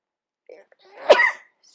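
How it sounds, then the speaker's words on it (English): A sudden, loud sneeze bursts out after a faint intake of breath, brought on by a cat allergy while crafting a paper Valentine heart box indoors. "I feel a sneeze coming on"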